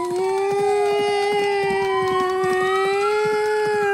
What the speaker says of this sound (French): vous entendez qu'il y a des sabots et une sirène